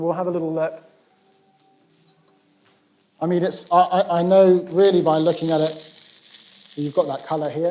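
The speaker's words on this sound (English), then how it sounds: "that's the sound you're looking for, a nice sort of sizzle" Food gently sizzling and caramelising in a pan, a soft steady frying hiss heard mostly in a quiet gap between stretches of close talk from a man at an outdoor food festival cooking demonstration.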